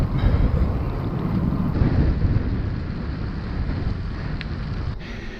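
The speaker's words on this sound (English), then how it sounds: "The wind is up" Strong wind roaring and buffeting a microphone while cycling into a headwind past fields, a steady loud rumbling rush that carries on throughout with no pauses.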